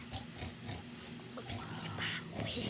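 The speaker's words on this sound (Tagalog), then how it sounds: "Ba't may baboy?" A pig oinking close by, with a few short grunts and snorts scattered across a couple of seconds amid ambient household noise.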